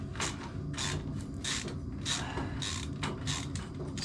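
A ratchet works a corroded bolt loose on a motorbike exhaust, giving a series of repeated clicking pulls about every half second, close and fairly loud over steady background noise.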